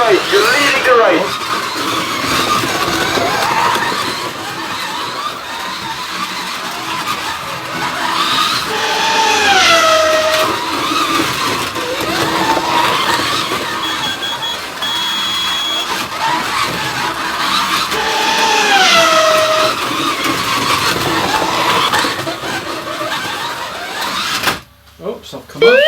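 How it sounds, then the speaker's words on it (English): Scalextric Sports digital slot cars whine and squeal steadily around the track, with rising and falling pitch sweeps as they pass, under continuous talk, ending in a brief drop near the close. "I'm not going to push the car too fast because I don't want to come off the track."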